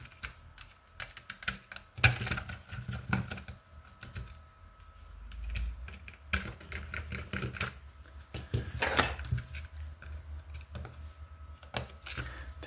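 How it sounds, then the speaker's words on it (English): Small screws come out of a Game Boy Color motherboard during a repair of an unresponsive D-pad, giving sharp, irregular clicks and taps from a screwdriver and plastic parts, close up with no talking. "I'll remove these screws from the motherboard."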